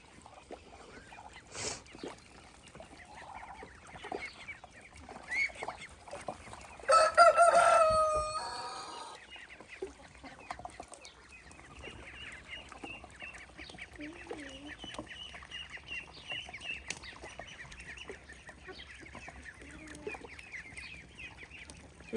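A village poultry yard with chickens, broilers and ducks: a loud rooster crow stands out near the middle, surrounded by faint clucks and bird calls over a quiet outdoor background.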